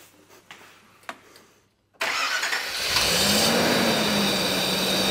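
A Nissan President sedan's engine cranks and fires on its first start after fuel tank work, settling into a loud steady idle with a rising hum, preceded by a few faint clicks.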